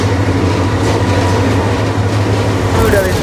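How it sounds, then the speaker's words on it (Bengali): A passenger train arrives at Mymensingh junction in Bangladesh with a steady, loud, broadband rumble that fills the whole stretch and swells slightly toward the end. "ট্রেনের খবর হয়ে গেছে, তো ট্রেনটা আসুক এবং উঠি।"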